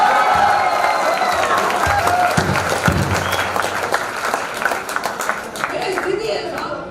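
A crowd at a Hindi comedy poetry show applauds warmly, with dense clapping and some cheering that fade gradually over several seconds while a voice talks over it.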